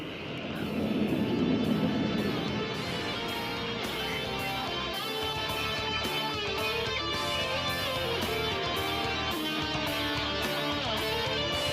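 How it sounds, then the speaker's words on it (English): Indian Air Force Surya Kiran aerobatic team jets fly overhead in formation, a loud, steady jet roar that holds unbroken for about twelve seconds. "आप देख सकते हैं सूर्य किरण 1, 2, 3 और 4 को आसमान की बुलंदियां छूते"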